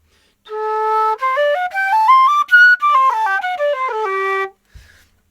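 A bamboo flute, blown across the end, plays a clear melody of sustained notes that step up and then back down, close and solo with no talk.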